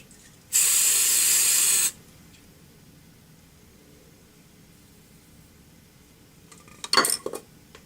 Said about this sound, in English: I'm just gonna spray it with some hairspray